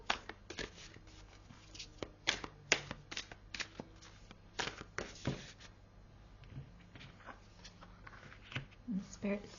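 Wylder One oracle cards are handled and shuffled up close, with repeated crisp riffles and flicks in an uneven rhythm, fairly quiet, while a voice speaks in the background.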